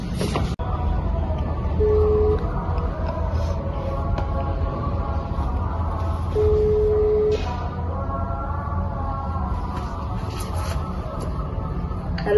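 A telephone call is placed, with two steady ringback tones sounding a few seconds apart over a low background hum; no one speaks.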